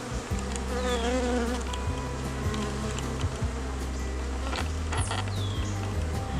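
Honeybees on freshly drawn white comb in a nuc hum loudly and continuously, a dense close swarm drone with individual bees buzzing past the microphone.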